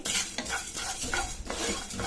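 Whole spices dry-roasting and crackling in a pan for raw banana pulusu, with repeated stirring scrapes and a steady close sizzle and no voices.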